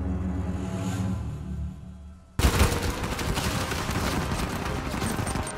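Enemy gunfire in the video game Uncharted 4: after a quiet stretch, a sudden loud burst of rapid automatic shots erupts and continues as a dense, crackling barrage.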